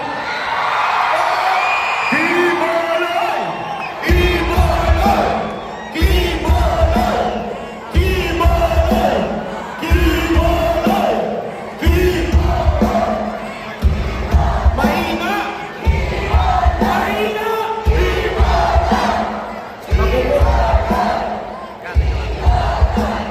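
A large crowd packed inside an arena at a Team Duterte proclamation rally roars and chants, loud and close, in rhythmic surges of shouting that rise and fall roughly every two seconds, with deep booming beats under the yelling.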